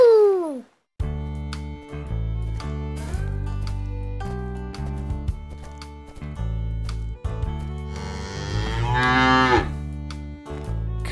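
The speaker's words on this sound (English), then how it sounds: "cow." A cow lets out a long, drawn-out moo that rises and falls, heard over a bright, steady music bed meant for children.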